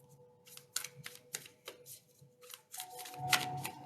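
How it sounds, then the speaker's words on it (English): A new deck of affirmation cards is shuffled by hand close up, a series of quick papery riffles and snaps that builds into a busier flurry at the end. "They're still new, so the shuffling is a little woo!"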